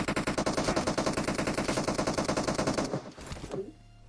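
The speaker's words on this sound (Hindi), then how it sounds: "कोई लोहे के टावर से गोली चलाता है" Rapid automatic gunfire in PUBG Mobile, fired from an iron tower, a dense, loud, steady burst of shots lasting about three seconds before cutting off and fading into quieter game sounds.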